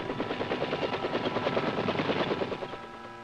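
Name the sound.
Army dust-off helicopters flying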